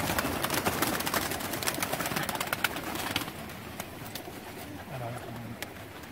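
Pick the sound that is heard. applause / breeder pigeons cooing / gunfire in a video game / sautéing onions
breeder pigeons cooing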